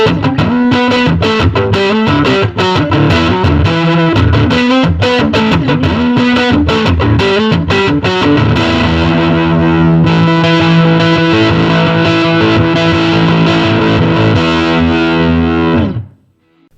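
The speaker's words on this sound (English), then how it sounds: "This is a classic 60s style fuzz that uses authentic NOS germanium" A heavily fuzzed electric guitar through a 60s-style germanium transistor fuzz pedal plays loud, saturated chords and riffs throughout, then cuts off abruptly at the end.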